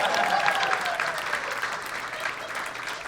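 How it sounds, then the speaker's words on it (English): An audience claps steadily, a dense patter of many hands that stays fairly even before easing off slightly toward the end. "Everyone applauds."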